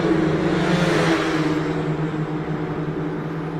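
Autonomous Indy race cars at CES 2025 scream past on the track, a loud, steady high-pitched engine whine that swells and then holds as they go through, with no talk.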